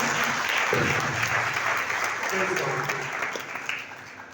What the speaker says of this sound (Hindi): जोरदार ताली उसके लिए